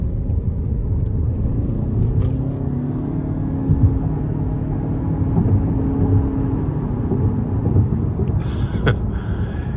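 A 2026 Toyota Camry XLE hybrid in sport mode accelerates up an interstate on-ramp, its engine and road noise a steady low rumble heard from inside the cabin, with no talking.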